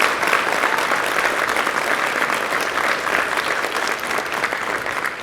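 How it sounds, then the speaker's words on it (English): A crowd applauds steadily, dense clapping that holds even throughout without a break. "can I get a round of applause for those folks,"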